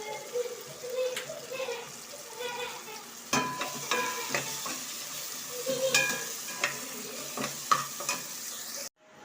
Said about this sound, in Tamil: 4 பச்சை மிளகாயும் சேர்த்து வதக்கிக்குவோம்.